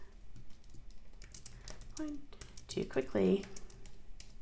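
Quick bursts of keystrokes on a computer keyboard while filling in a Google Classroom assignment, light clicking taps under a person speaking.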